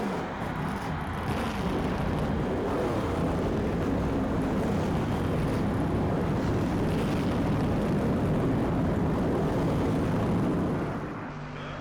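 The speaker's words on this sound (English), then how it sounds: "Gentlemen, start your" Race car engines start and roar together in NASCAR Thunder 2004 at Watkins Glen under the lights, a loud, continuous dense rumble of many motors with no voices.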